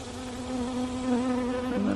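Honeybees swarm and buzz in an open hive, a steady, close, dense drone that holds without pause for the whole two seconds.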